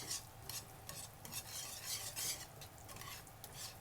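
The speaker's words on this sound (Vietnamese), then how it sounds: "Trộn tất cả cái hỗn hợp này lại cho nó đều nha" Shallot sauce mixture for a young radish salad being stirred together, a close, continuous run of quick scraping and swishing strokes with no voices.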